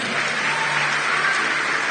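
Congregation applauding at a church service, a steady dense wash of many hands clapping together, loud and continuous throughout with no voices on top.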